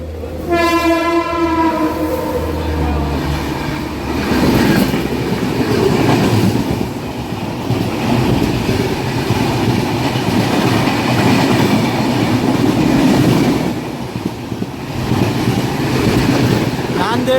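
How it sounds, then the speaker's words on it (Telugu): A superfast express overtakes a stopped MEMU train at Tuni railway station, opening with a loud horn blast and followed by sustained rumbling and clattering of passing wagons close by, with faint voices in the background. "తుని రైల్వే స్టేషన్లో మన ట్రైన్కి ఇంకో ఓవర్టేక్ పడింది"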